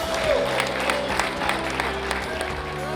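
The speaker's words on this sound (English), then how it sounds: "give yourself a big round of applause" Audience applause at a baseball fantasy camp, steady dense clapping from a crowd with some voices mixed in, continuous and fairly loud throughout.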